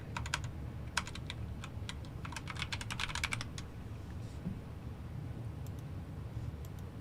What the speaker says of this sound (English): My keyboard sounds so good.